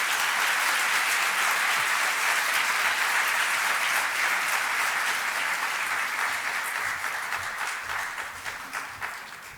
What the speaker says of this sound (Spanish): ¿Les parece si le reiteramos el aplauso a nuestro invitado internacional?